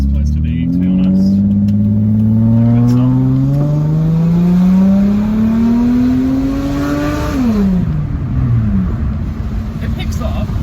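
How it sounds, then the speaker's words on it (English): Naturally aspirated V6 in a 1999 Lexus ES300 pulling hard under acceleration, engine note rising steadily in pitch through a gear before a shift drops it, heard from inside the car over constant road rumble. "It is a 147 kilowatt naturally aspirated V6, so it has a bit of punch"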